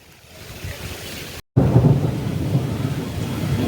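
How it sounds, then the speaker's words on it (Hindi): Heavy thunder rumbles through steady monsoon rain, a loud continuous roar filling the space, broken by a brief dropout before the downpour and thunder surge back even louder. "बाप रे ये तो गरज रहे हैं।"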